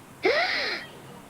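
A woman gasps once, a sharp breathy intake that fades out over most of a second, close and without any talking around it.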